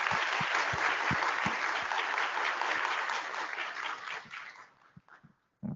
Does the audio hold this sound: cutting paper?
no